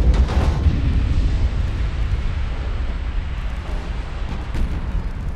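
Torpedo hits exploding against a warship in the naval battle game Ultimate Admiral: Dreadnoughts, a heavy, sustained booming rumble that rolls on for several seconds with a sharper blast near the start and no voices.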